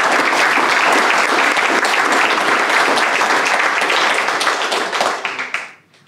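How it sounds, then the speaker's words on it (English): An audience at a military promotion ceremony at Lajes Field in the Azores gives dense, sustained applause that holds steady for several seconds and then quickly fades to a few last claps. "please give a round of applause for Team Lajes' newest staff sergeants"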